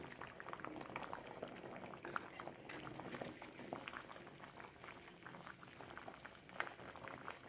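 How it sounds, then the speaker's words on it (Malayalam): Fish curry bubbles and simmers in a pot, a soft, continuous popping and gurgling that stays faint and even throughout. "കറി നന്നായി തിളച്ച് വന്നിട്ടുണ്ട്"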